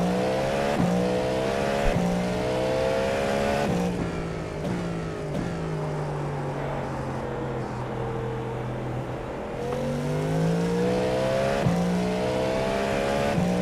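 A race car engine screams around Daytona in a racing video game, its high-pitched whine rising and falling through gear shifts and braking, loud and continuous with no break.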